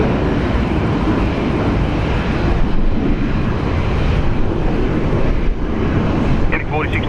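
An Alliance Airlines Fokker 70 airliner departs Brisbane Airport during a severe storm, a loud, steady broadband roar of jet engine mixed with wind buffeting the microphone, sustained throughout.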